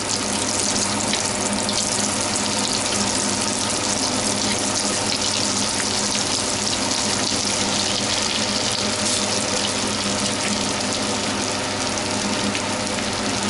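A bread cutlet deep fries in hot oil over medium-low heat, giving a steady, dense hiss and sizzle that stays close and continuous throughout with no talking.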